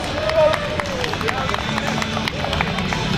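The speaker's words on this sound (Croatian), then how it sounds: "Ajmo jedan aplauz za Viktora" Crowd at an international motorcyclists' meetup in Orašje claps and cheers for a young rider, a steady spread of applause and babble under an announcer's voice.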